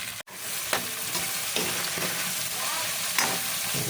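String beans being stirred in a hot pan for adobo, a steady sizzle of frying with scraping strokes of the utensil about every three-quarter second, close and fairly loud, with no talking.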